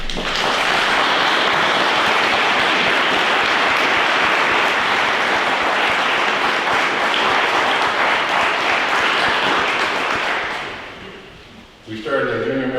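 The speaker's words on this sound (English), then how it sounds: "let's give them a round of applause" A crowd at the grand opening of the Carberry North Cypress-Langford fire hall gives the standing members a long, loud round of applause that fades out near the end, followed by a brief voice.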